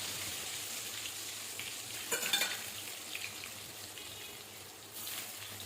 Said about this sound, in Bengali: তেলটা গরম করে নিয়েছি, আর এখন মাংসের আলুটা ভেজে নিচ্ছি